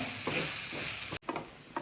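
Brief scraping and clinking of a utensil stirring cooked boti (tripe) with ground spices in a pan, a few quick strokes over a faint sizzle.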